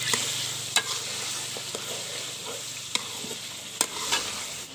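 Chicken browning with garlic and ginger paste in a karahi, village-style cooking, a soft continuous sizzle with occasional crisp clinks and scrapes of a stirring spoon, fairly quiet and close, no talk.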